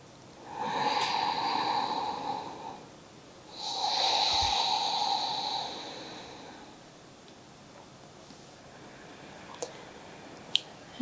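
Two long, slow breaths during gentle prenatal yoga, each lasting about two to three seconds with a breathy, airy texture. A quieter lull follows with a few faint ticks.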